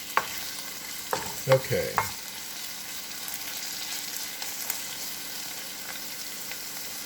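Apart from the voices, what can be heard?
stir-frying onions and garlic in a pan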